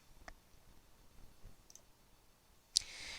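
A single sharp mouse click on an on-screen button, close and crisp, heard against near-silence after a few faint ticks.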